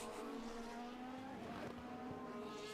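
A Formula 1 car in qualifying at the 2022 Saudi Arabian Grand Prix passes at a distance, a faint thin high engine whine that rises and falls slightly over a few seconds.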